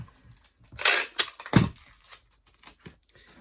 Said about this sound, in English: So we'll seal it. Tape gun.